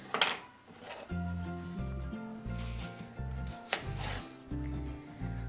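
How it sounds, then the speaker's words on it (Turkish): Knife chopping onions on a wooden board, a steady series of rhythmic thuds with faint rubbing between strokes, close and fairly quiet, no talking. "şimdi soğanlarımızı doğrayalım"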